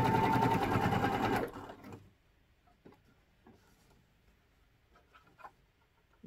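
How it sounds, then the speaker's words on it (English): A sewing machine top stitches over the edge of a sun visor brim, running loud and steady for about a second and a half before stopping, then leaving faint handling noises. "now I am simply top stitching over the edge of the brim."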